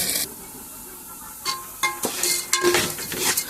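Washed vegetables fry in a pan with a soft sizzle, broken by several sharp metallic clinks and scrapes as a utensil stirs them, close up and with no talk.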